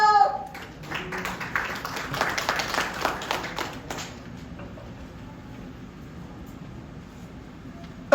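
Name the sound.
audience clapping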